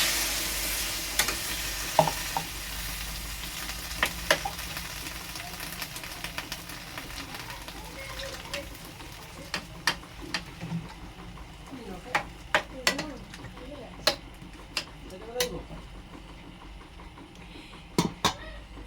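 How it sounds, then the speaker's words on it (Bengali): A spice paste and other ingredients fry in a pan with a soft, steady sizzle, punctuated by sharp spatula clicks and scrapes, while a voice speaks now and then. "ভালো ভাজা হয়ে গেছে সব কিছু।"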